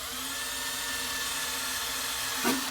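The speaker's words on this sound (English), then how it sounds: "So pre-drill your little hole." A steady high-pitched whine of a power drill spinning while pre-drilling a small pilot hole, ending with a brief harsher burst as the bit bites in.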